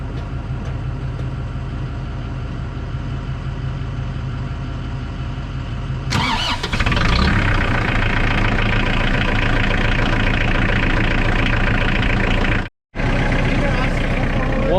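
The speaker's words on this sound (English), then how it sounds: "I was trying to get you guys a nice little clip of the tractor starting up." A tractor engine idles low and steady, then cranks and catches around the middle, settling into a louder, rougher idle that cuts out briefly near the end before resuming.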